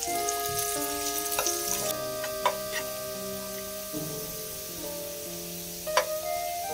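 Carrots frying in a pan for Kolkata-style egg fried rice, a steady close sizzle with occasional clinks and scrapes of stirring, no voices.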